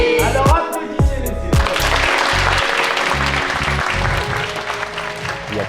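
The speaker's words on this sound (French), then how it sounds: "Alors applaudissez-les." An audience applauds young speakers after their talks at an educational youth camp event, with clapping building after a few sharp knocks at the start and continuing fairly loudly to the end.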